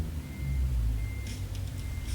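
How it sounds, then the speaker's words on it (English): Truck reversing in a trucking simulation game, a thin steady electronic beep tone over a low rumbling diesel engine, with a few short clicks partway through. "Reverse. Got to hear the beeping."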